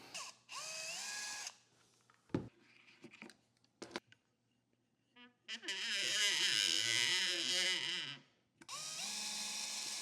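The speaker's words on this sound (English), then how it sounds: "So I'm going to drill one" A power drill whines in several bursts, spinning up and winding down with pitch changes as it bites into a 3D-printed plastic plug, with brief clicks and quiet gaps between.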